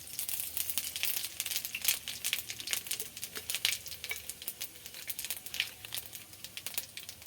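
Panch phoron spices crackling in hot oil, a close, continuous patter of sharp pops and crisp crackles at low volume, with no talking.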